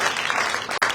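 After debate team introductions, an audience breaks into a short burst of applause, a brief full wash of clapping with a momentary gap near the end.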